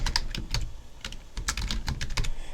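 Rapid keyboard typing in uneven bursts of clicky keystrokes, close and fairly loud, with no voices.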